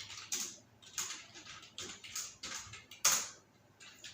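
Computer keyboard keys clatter in quick irregular bursts of clicks, close and fairly quiet, with brief pauses between flurries while typing personal details into a resume.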